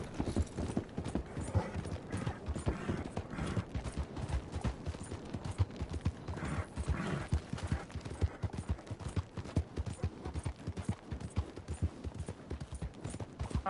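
A horse gallops in Red Dead Redemption 2, its hooves pounding in a fast, relentless rhythm close by. The hoofbeats continue unbroken, with faint mechanical clatter mixed in.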